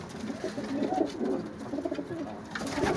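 Pigeons coo in repeated soft, throaty rolls, several birds close by and fairly loud, overlapping continuously for a few seconds without talk.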